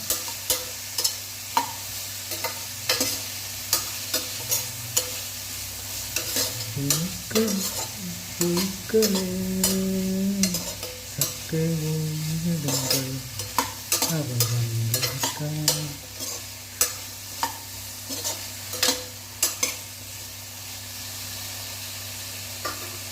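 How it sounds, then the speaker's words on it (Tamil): Mixed vegetables and onions sautéing in a pan for sambar, a constant sizzle broken by repeated spoon scrapes and clacks against the pan, with a tonal hum surfacing midway, close by and without speech. "இந்த மாதிரி ஒரு நிமிஷத்துக்கு நல்லா வதக்கிக்கலாம்."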